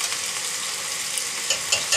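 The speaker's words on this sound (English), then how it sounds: "so that the chili powder gets sauteed with oil and it gives better color." Chili powder sautéing in hot oil for a Kashmiri rogan josh, a soft, steady sizzle with a few faint stirring scrapes near the end.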